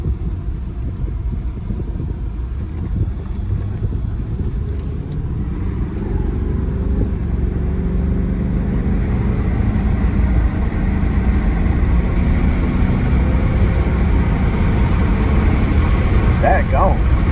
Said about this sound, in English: we're gonna take this thing for a test drive